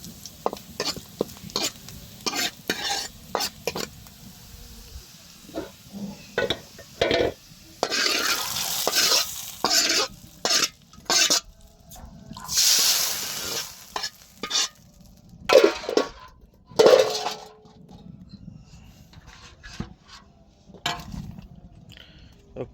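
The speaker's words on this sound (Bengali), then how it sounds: "বাগার দিব আমরা" Spices sizzling in hot oil while tempering dal: bursts of crackling frying alternate with scraping stir strokes and clinks of a spoon against the pan, close and intermittent, with no voices.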